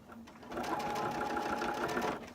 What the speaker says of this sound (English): I'm going to flip my switch back to a straight stitch, and then I'm going to put a lock on it at the tail end here